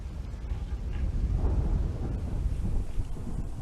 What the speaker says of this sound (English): we've been hearing the sound of heavy shelling